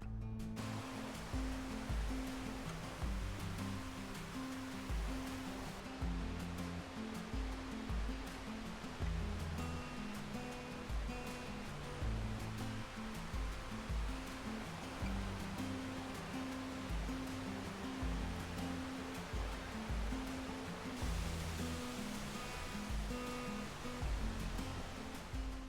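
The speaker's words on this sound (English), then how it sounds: "This sign pointed to the pretty Bardu Waterfall" Bardu Waterfall in a Norwegian forest, heard as a steady, dense rush of falling water, constant and unbroken with no voices.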